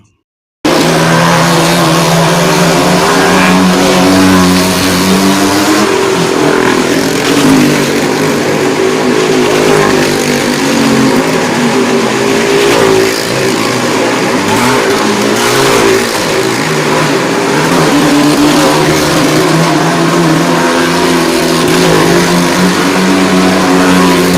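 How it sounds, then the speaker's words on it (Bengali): Maruti cars and motorbikes roar through a stunt circus at Matgoda Sonimela fair in Bankura district, with loud, continuous engine revving and accelerating close by, rising and falling without a break. "এখন পৌঁছে গেছি মারুতি এবং বাইকের সার্কাসের মধ্যে"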